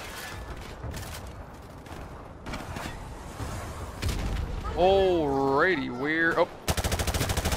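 Call of Duty 4 Modern Warfare Remastered gunfire cracks out in scattered shots from several directions, building to a tight automatic burst at the end, while someone talks briefly over it.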